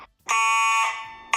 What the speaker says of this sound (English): I'm going to pull down the fire alarm at Chuck E.